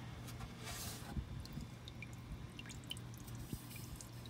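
Engine oil drips into an oil pan beneath a Dodge Caravan during an oil change, with scattered, irregular close drips over a low background hum.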